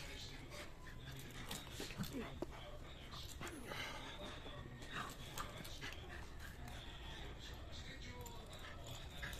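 A dog that stole a piece of chicken makes faint snuffling, panting and small whimpers while a person talks over it throughout.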